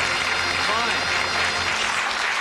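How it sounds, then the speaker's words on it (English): Studio audience at a TV darts game show applauding, a dense continuous wash of clapping, loud and even from start to finish, with a low hum beneath. "Give them a nice warm round of applause."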